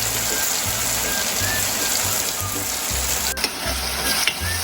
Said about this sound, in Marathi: तर इथे आता आपला कांदा टोमॅटो भाजेपर्यंत आपण पाहूयात